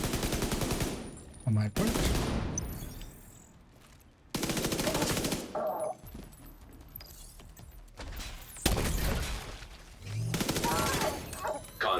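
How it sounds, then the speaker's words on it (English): Video game gunfire erupts in loud bursts of rapid automatic shooting, broken by short quiet gaps, with a player speaking briefly between volleys. "Oh, that was some shooting"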